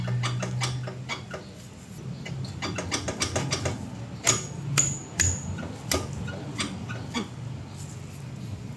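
A loose upper control arm on a Ford Everest clunks and rattles during a suspension check-up, giving irregular metallic knocks and clanks close by, louder bursts in the middle, with no talking.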